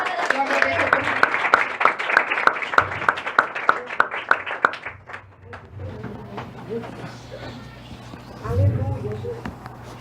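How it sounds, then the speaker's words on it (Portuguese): Church congregation clapping in rhythmic praise during a Portuguese-language worship service, loud steady beats for about five seconds that then break up and fade, with a preacher's voice continuing over the room. "Assim as palmas louvam o Senhor."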